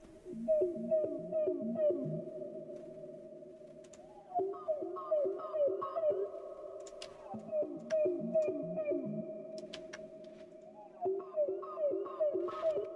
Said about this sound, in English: Yeah, ARP bird call is what I have it.